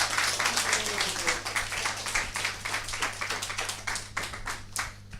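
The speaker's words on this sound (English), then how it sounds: "Give him a round of applause." A small class audience applauds with a few seconds of steady hand clapping, fairly close but modest in volume, over a low background hum.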